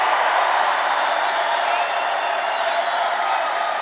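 A large crowd cheers and whoops at a Trump rally in Grand Rapids, Michigan, a dense steady roar sustained throughout with high whistles and shouts rising out of it.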